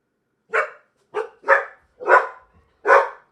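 Several dogs bark in five separate loud bursts spaced roughly half a second apart, each a sharp close bark standing alone with no talk.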